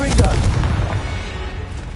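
Confringo spell explosion in the Hogwarts Legacy video game, a loud booming burst at the start that rumbles and decays over a couple of seconds, with a voice mixed in.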